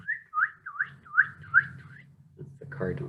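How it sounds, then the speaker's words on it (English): A northern cardinal sings a repeating song of six clear, evenly spaced slurred whistles, fairly near, over a low background hum, followed by a brief burst of other bird calls and rustling at the end. "That's the cardinal singing."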